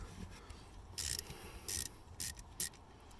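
A ratchet turns an M7 socket to remove screws on a 2005 Hummer H2, heard as several short bursts of close, rapid clicking with quiet pauses between them.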